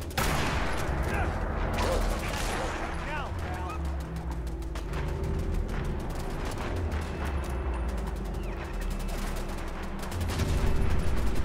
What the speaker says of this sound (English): Oh, that's what that explosion was.